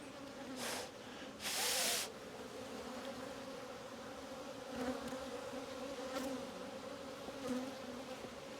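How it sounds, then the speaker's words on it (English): Honey bees around an open hive box make a constant close buzzing hum, with individual bees flying past the microphone in louder, brief surges. "So many bees."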